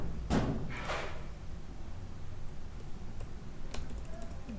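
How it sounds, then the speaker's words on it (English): Light typing on a computer keyboard gives a few scattered, faint key clicks in a quiet room, preceded by a couple of louder knocks or handling sounds near the start. "Then you have to open your browser and type here"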